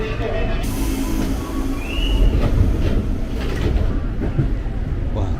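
KRL commuter electric train slowing between Klender Baru and Cakung on the Cikarang line, heard from inside with a rumbling rattle of wheels, a short rising squeal, clicks over the track and soft background voices.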